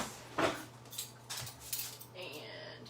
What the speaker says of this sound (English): Get my little measuring spoon.